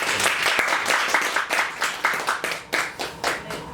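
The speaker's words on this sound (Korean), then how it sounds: "박수로 모시겠습니다" An audience applauds to welcome a speaker at a human library event, a dense burst of many hands clapping close by, fading in uneven waves toward the end.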